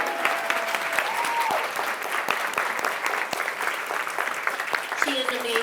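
An audience applauds steadily throughout, a dense wash of clapping, while a voice speaks briefly over it.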